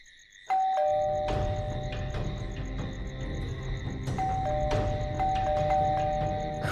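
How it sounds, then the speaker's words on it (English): A doorbell rings indoors, chiming repeatedly with clear ding-dong tones over a low steady background hum, with no talking. "just when someone rang the bell"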